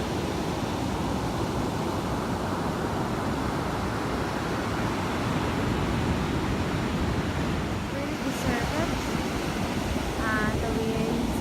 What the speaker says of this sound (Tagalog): The waves are opening.